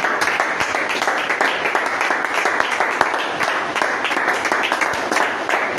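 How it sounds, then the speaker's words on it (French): A church congregation claps loudly and continuously in a worship service, a dense, even wash of applause filling the room with a few faint voices underneath. "Applaudissons pour le Seigneur Jésus."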